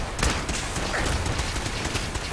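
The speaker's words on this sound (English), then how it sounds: "Those heavy machine guns suck." Heavy machine gun fire in the video game Fallout 4, a loud, dense, unbroken barrage of rapid shots with booming low rumble and no talking.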